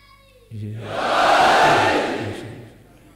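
A large crowd at a religious gathering roars a slogan together, a loud swelling mass of voices that rises, holds and fades over a few seconds.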